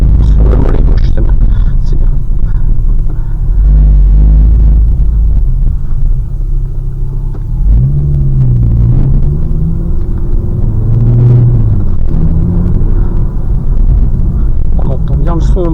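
Inside a Ford Focus RS while driving, a loud, steady low engine rumble fills the cabin, with the pitch rising and falling as the car moves. A voice talks over it.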